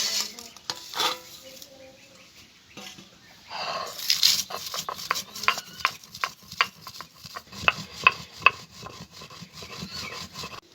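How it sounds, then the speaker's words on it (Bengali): Fried spices being ground on a flat grinding stone, rhythmic rasping and rubbing strokes up close that grow firmer and more regular after a quiet start, with no talking. "এবার আমি ভাজা মশলাগুলো শিলে বেটে নেব"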